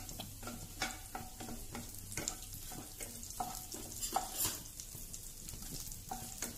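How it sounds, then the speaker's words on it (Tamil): Green chili and curry leaves sauté in ghee in a pan for spicy egg masala, giving a steady, close sizzle with frequent scraping stirs and light utensil clinks, and no talking. "இது எல்லாமே கொஞ்சம் மிதமான தீயிலையே வேகட்டும், வதங்கட்டும்."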